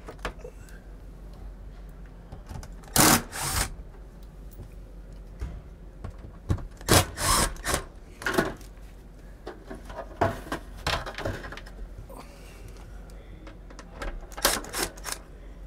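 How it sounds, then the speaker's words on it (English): Phillips screws being unscrewed from the trim piece of a MaxxFan Deluxe roof vent on a 2021 Sunset Park Sunray travel trailer, giving sharp, close clicks and ratcheting ticks in scattered clusters over a quiet background, with no talk. "We're going to remove this trim piece here, Phillips head or square bit. You should have four screws,"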